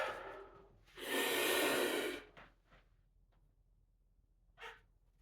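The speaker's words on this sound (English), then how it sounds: "So you take a deep breath." A long, deep inhaled breath, close and clear, followed by a softer exhale and a brief sharp breath after a pause.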